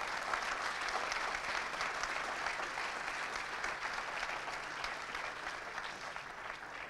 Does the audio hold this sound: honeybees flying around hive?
no